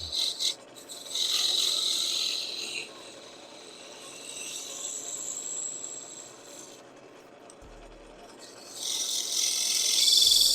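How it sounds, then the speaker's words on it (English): A round nose negative rake scraper works a spinning wooden tenon on a lathe, making close, hissing rasps in several passes with short breaks between them and a faint hum underneath. "I'm going to finish off this with negative rig scraper, round nose negative rig scraper"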